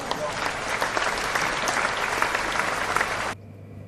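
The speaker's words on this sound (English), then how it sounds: "Ladies and gentlemen, please give a big hand for Mr. Lomax." Audience applause for a performer: a dense wash of many hands clapping at moderate loudness, sustained for about three seconds and then cut off sharply to near silence.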